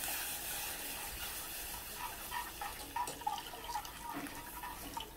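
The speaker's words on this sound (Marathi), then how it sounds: "थोडं थोडं करून दूध घालते." Milk is poured little by little into a white sauce for pasta, a soft, steady liquid trickle with small splashy bursts, heard alone without talk.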